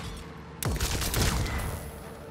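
A loud burst of rapid gunfire from a gun in the Atomic Heart video game, breaking in suddenly after a quiet moment and trailing off in echoing reports.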